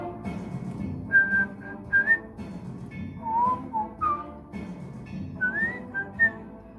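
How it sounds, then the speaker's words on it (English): A painter whistles a loose melody while working on Dark Souls board game miniatures, bright wavering tones in short phrases with pauses, close and clear over a low background hum. "If my whistling is annoying you, feel free to turn down the sound."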